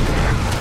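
Explosive charges detonating on an anti-aircraft gun in Resident Evil 6, a very short, heavy, close boom that fills the whole sound and ends abruptly.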